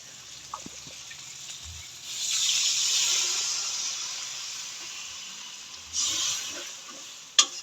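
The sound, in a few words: water poured into frying spice paste (masala) in a pan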